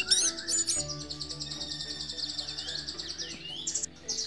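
A red-headed thrush (anis merah) sings close by, a quick run of bright, varied whistles and chirps in rapid succession, fairly quiet but clear.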